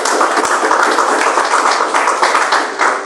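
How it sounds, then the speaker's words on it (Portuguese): A church congregation claps steadily together, a dense, loud wash of palms sustained for several seconds with a few sharper individual claps standing out. "Palmas para o Senhor Jesus"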